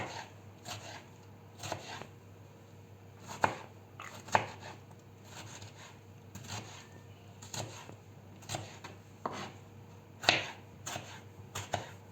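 Tomatoes being chopped into small pieces with a knife on a cutting board, quiet irregular taps spaced a second or so apart, a few sharper knocks, no talking.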